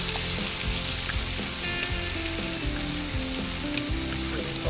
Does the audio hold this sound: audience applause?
no